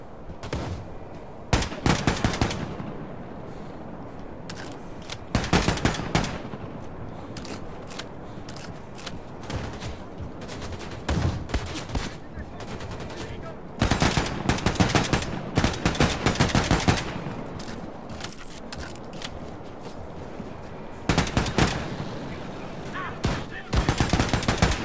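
Enemy gunfire in Wolfenstein 2, recurring rattling bursts of automatic fire interspersed with single sharp shots over roughly twenty-five seconds, loud and close, with some voices heard between volleys.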